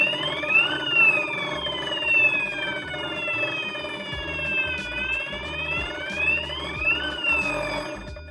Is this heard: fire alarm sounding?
yes